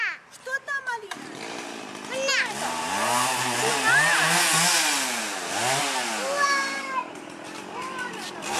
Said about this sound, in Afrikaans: So word 'n boom in Afrika gesaag.